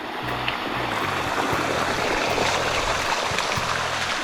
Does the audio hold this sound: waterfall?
yes